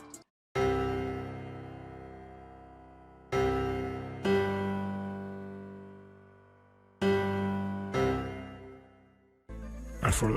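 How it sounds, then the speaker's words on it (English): Grand piano bass notes copied down two octaves in a beat, sounding as several deep sustained chords struck in a bouncy pattern, each decaying slowly, moderately quiet with no talk. "I went back again into expand and found this grand piano."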